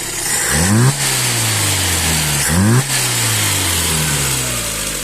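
A Solex moped engine idles with a buzzy drone, then is twice blipped to a higher pitch and falls back, answering the throttle, close and loud throughout.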